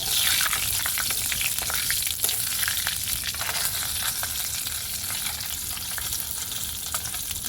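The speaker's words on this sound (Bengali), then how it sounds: "দিয়ে দেবো 2টো তেজপাতা আর 5 ফোড়ন" Two bay leaves and five-spice (panch phoron) crackle and sizzle in hot oil for a rui fish curry, a busy steady frying hiss up close with faint stirring and no voices.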